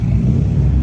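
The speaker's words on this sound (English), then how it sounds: "Just listen to that turbo." A turbocharged car engine revs at a JDM car meet, giving a brief, loud, deep rumble that is close and sustained.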